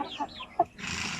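A pure Basilan cockerel clucks in a few short, close, throaty notes, followed by a rush of background noise.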